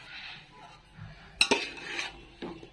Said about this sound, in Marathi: परतून घेऊ आता चांगलं.